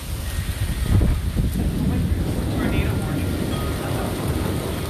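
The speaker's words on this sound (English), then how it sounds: "the crackle of the thunder." Rain falls steadily during an Austin thunderstorm while thunder rumbles and crackles low beneath it, with wind buffeting the microphone.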